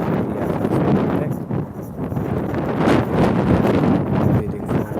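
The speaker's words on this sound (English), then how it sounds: "Very, very windy." Strong gusting wind at the Titanic Quarter buffets the microphone, a loud continuous low rumble that swells and eases in gusts, with no talking.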